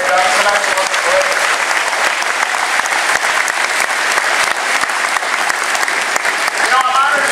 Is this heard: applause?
yes